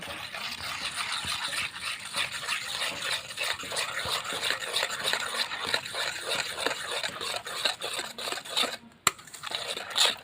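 Sugar being stirred into a thick palm fruit batter in a bowl for taler bati pitha, a steady, close scraping and mixing texture that runs throughout with small clinks, briefly pausing near the end, no talking.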